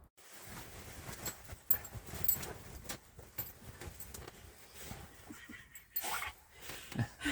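Dogs pant and shuffle around close by inside a heated winter tent, with soft irregular rustling, patter and breathy panting, fairly quiet throughout.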